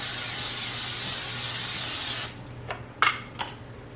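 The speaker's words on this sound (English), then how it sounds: "I just always cook them just with some olive oil spray in this skillet and just kind of let them get soft" Peppers sizzle in olive oil spray in a skillet, a loud steady frying hiss that stops abruptly partway, leaving a few quiet clinks and soft scrapes.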